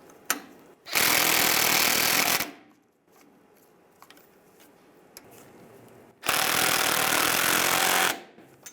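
An impact power tool snugging bolts on a 2007-2013 Chevy Silverado 1500 leveling kit fires two loud, close bursts of rapid hammering, each about a second and a half, with quiet clinks and handling sounds between.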